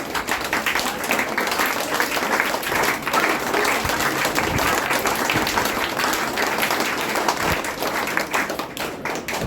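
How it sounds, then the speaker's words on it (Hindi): Sustained applause from a seated audience at a Hindi spiritual lesson, dense hand claps filling the room steadily for the whole stretch at close range, with no talk over it. "अब फिर से तालियां बजाना शुरू कीजिए इन तीनों के लिए"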